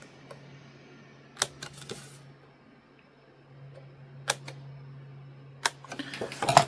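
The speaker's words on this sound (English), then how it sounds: "Get a pair of scissors and just cut down the tops of the holes like that." A few sharp, isolated snips as scissors cut down through the tops of the punched holes in notebook pages, quiet and spaced apart with no talk.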